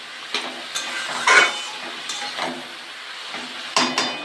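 Radish greens with salt and turmeric stir-fried in a pan, with a soft sizzle broken by a handful of spatula scrapes and clinks against the metal, close by and without speech.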